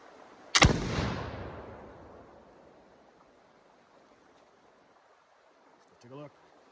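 A smoothbore flintlock musket loaded with 60 grains of powder and 60 grains of number 5/6 shot fires one loud, sharp report that decays slowly into the open foothills, followed by quiet outdoor ambience and a faint brief sound near the end.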